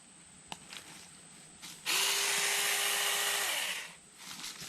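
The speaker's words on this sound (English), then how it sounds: "Now's a good time to put this Saker mini electric chainsaw to the ultimate test." A small Saker electric mini chainsaw whirs to speed, runs steadily at a loud, close-up pitch for about two seconds, then winds down, with faint outdoor ambience before and after.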